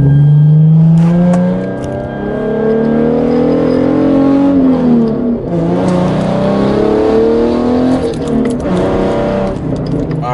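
Hyundai Genesis Coupe with a newly fitted UNIQ Performance short shifter, driven on the road, its engine droning and revving steadily up and down close by, with a faint voice briefly in the background.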